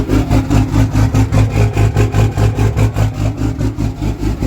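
Diesel truck engine at high idle, loud and close, with a steady loping rumble that pulses about four times a second. No other sounds or voices.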